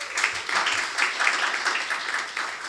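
An audience at a panel discussion gives a warm round of applause for a speaker, dense, steady clapping filling the room for the whole stretch.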